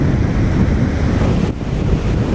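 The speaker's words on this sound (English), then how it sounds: "When the wind is this strong" Strong typhoon wind roars across a Siargao beach with crashing surf, a loud, dense rush buffeting the microphone with hardly a break.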